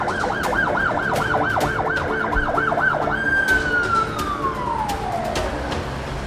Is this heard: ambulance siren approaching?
yes